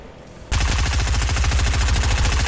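Sustained rapid SMG gunfire in Fortnite erupts abruptly after a quiet half-second, a dense, loud, steady burst of rounds with no talk over it.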